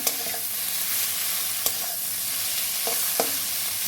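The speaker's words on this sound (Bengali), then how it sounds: "হাফ ভাজা হয়ে যাওয়ার পরে আমি লঙ্কার গুঁড়ো, হলুদ গুঁড়ো আর কেটে রাখা টমেটোটা রেখেছিলাম, টমেটোটাও দিয়ে দিলাম" Dried fish, half fried, sizzles steadily in a pan after chili powder, turmeric and chopped tomato go in, a constant soft frying hiss with a few faint clicks of stirring.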